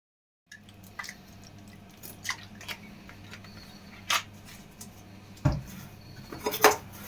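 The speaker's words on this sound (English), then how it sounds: "then I'll pop them in the jars" Mandarins are placed into glass jars by hand, producing scattered light clinks and taps of glass, close by and irregular, with no talking.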